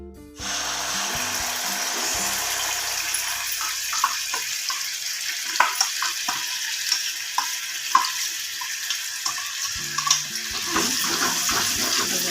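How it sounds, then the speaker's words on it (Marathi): Mutton going into about two spoonfuls of hot oil, a dense hiss of frying that stays loud throughout, with scattered soft knocks and scrapes in the pan and no talking. "थोडंसं तेल दोन चमचे तापलं की त्याच्यात आपण मटण टाकू"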